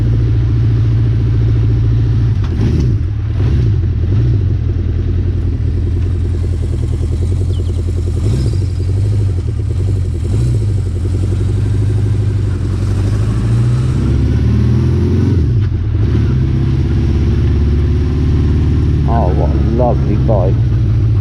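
Honda CB550 K3 classic motorcycle engine running steadily while riding, a loud continuous low drone with gentle rises and falls as it pulls away, with someone talking over it throughout.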